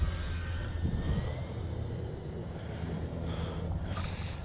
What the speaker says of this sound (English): Do a flyby here real close.